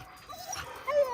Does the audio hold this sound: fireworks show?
no